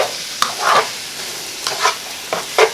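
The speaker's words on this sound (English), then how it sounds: "Try and get all your yummy drippings from the bottom of the pan. And we're just going to stir everything around." Chicken fajita casserole ingredients stirred in a hot pan, scraping drippings from the bottom, with a steady sizzle under repeated scraping strokes of the spoon, close and fairly loud, no voices.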